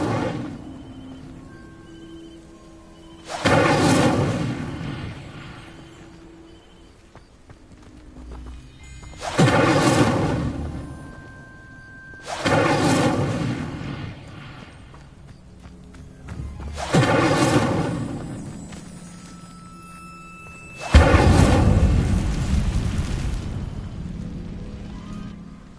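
An Incendio fire spell igniting dry vines in a video game, five separate loud whooshing, crackling bursts of flame spaced a few seconds apart, each fading into quiet, with the last burst the biggest and longest.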